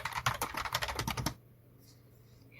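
Brisk typing of Java code on a computer keyboard, with a fast, close run of key clicks for over a second before stopping into quiet room tone.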